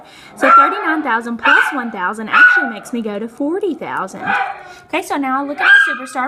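A dog barks and yips in the background, several short bursts scattered under steady close talking that continues throughout.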